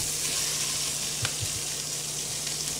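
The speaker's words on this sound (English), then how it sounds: "I'm going to put a little bit of butter in this pot to make the string beans almondine" Butter melting and sizzling in a pot for string beans almondine, a steady close frying hiss with a few soft clicks and pops and no talking.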